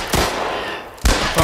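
Gunfire in The Last of Us PC remaster, two sharp, loud shots about a second apart, each trailing off into a noisy echo, with no talking.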